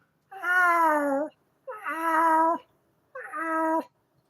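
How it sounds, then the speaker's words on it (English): A cat gives three long, drawn-out meows, each lasting about a second with short gaps between, loud and close, with a strained, wavering tone like a tom in heat. "That sounds like a male cat in heat."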